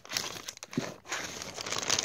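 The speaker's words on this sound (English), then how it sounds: "I don't want to cut them, so let's cut this open." Plastic packaging from a toy trade parcel crinkles and tears as it is cut open with poor scissors, giving close, brisk rustling bursts with no talking.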